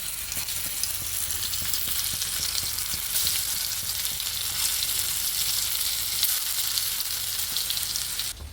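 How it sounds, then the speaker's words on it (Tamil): Fish coated in masala fries in hot oil, producing a loud, continuous bright sizzle and crackle that holds steady without a break until it cuts off at the end. "எண்ணெய் சூடாகிடுச்சு, மசாலா போட்டு 1 மணி நேரம் ஆகிடுச்சு. ஸோ மீன் பொரிச்சிக்கலாம்"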